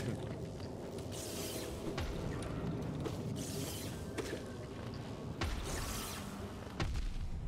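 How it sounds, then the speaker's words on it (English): Chain explosions in the Hollow Knight video game, heard as a run of low booming bursts with crackling, mechanical rattles, repeating every second or so over a steady bed of game ambience. "those are the chain explosions we were talking about"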